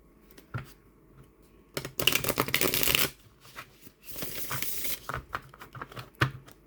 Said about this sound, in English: So really easy to shuffle these cards.